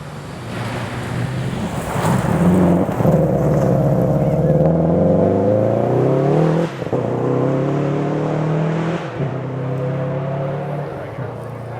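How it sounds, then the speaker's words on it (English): A rally car engine roars and climbs in pitch during a 2012 STPR rally stage, with occasional sharp pops from anti-lag, under heavy wind buffeting. "Sounds like the anti-lag on that car is not as aggressive as it was when we heard in Oregon"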